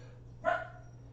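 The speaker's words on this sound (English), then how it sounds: "you can probably hear the dogs" Dogs indoors in a home bark in one brief burst, faint and somewhat distant, over a steady low household hum.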